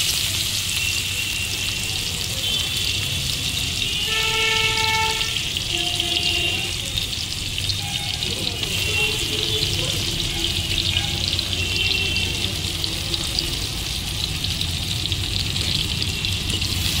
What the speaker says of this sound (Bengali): এই তেলের মধ্যেই আমি দিয়ে দেবো দুটো কেটে রাখা পেঁয়াজ